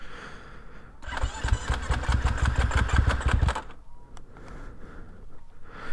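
A powerful car engine cranks and catches, then roars with rapid throttle blips for a couple of seconds before settling, loud and close with no voices.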